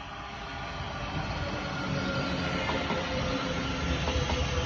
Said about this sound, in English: Got a Bedford train coming in as well.